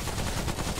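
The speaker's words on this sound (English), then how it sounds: "Drive-by shooting, baby." Dense, continuous gunfire from a drive-by shooting in Subject 2923, a rapid rattle of overlapping shots that stays loud and unbroken throughout.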